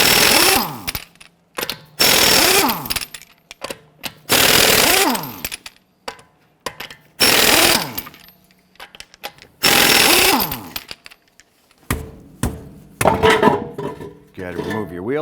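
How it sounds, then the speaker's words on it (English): An impact wrench fitted with a 22mm socket fires in loud, short rattling bursts as it loosens the lug nuts on a 2009-2015 Honda Pilot front wheel, with quiet gaps between bursts and clinking near the end. "let's loosen and remove our lug nuts."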